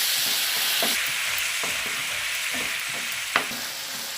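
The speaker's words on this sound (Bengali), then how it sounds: "এবার আমি এগুলোকে ভালো করে কষিয়ে নেব" Spices sautéing in a pan for restaurant-style dal fry, a continuous hiss of frying with repeated soft spoon strokes and one sharp clink near the end, heard alone without voices.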